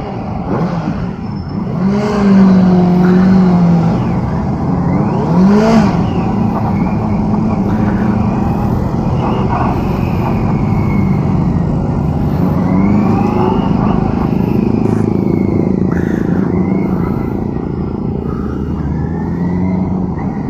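Benelli TNT600i inline-four motorcycle pulling away in first gear, a steady loud engine drone with a rising rev sweep early on and sustained throttle, no voices.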